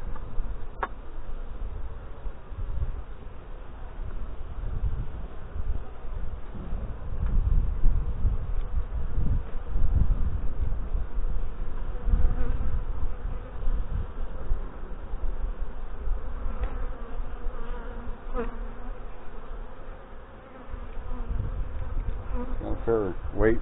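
Honey bees from a crowded hive buzz steadily during a late-September inspection, a dense continuous hum close by with faint handling rustles and no talk.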